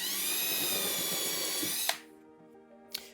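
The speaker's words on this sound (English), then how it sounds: "We're gonna drill these holes out and we're gonna screw this in." A power drill whines steadily and loudly while drilling screw holes through pipe flanges into a butcher block desktop, then cuts off abruptly, followed by a brief sharp clack.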